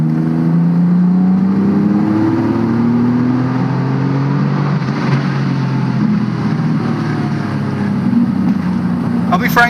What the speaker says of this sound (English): That turbo is addictive. The noise is almost industrial.